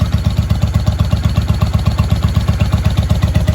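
A 1995 Honda Shadow VLX VT600CD motorcycle engine idles steadily up close, its loud, even chugging pulse thumping in a quick regular rhythm without pause.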